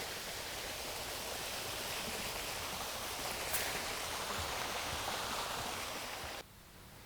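Water splashes and trickles steadily in a garden water feature, a constant close hiss of running water that drops suddenly softer near the end.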